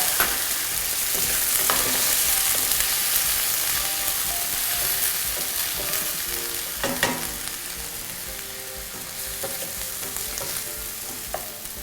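Broccoli stir-frying in a hot pan after water is added for a vegetarian dish, giving a continuous bright sizzle with occasional clinks and scrapes of the utensil.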